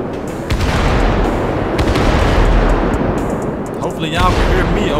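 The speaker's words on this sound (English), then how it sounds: "them fireworks are loud as hell" Fireworks go off in the video game GTA 5 on a night drive, a dense run of loud booms and crackles that stays steady, then eases and rises again with a fizzing whistle near the end.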